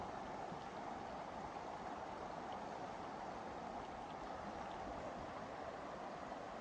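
River water flowing over pebbles, a steady, even rushing and babbling that holds unchanged throughout, close and continuous with no voices.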